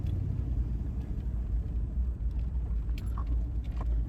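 A car rolling along a trail on Florida back roads, steady low engine rumble and road noise throughout, no voices.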